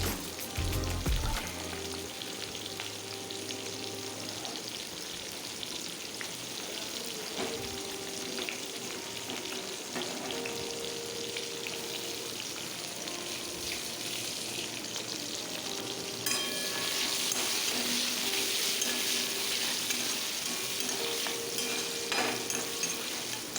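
Chopped onion, bay leaves, whole garam masala and panch phoron sizzle in oil in a kadai, a steady frying crackle broken by scraping stirs of a spoon against the pan, with no talking.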